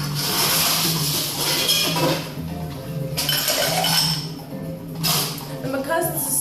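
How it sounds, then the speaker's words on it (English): A spoon stirs a low-alcohol sherry cocktail with a few drops of Kübler absinthe over ice in a mixing glass, giving steady clinks and rattles of ice against glass, with a faint mechanical hum underneath. "And then we'll stir."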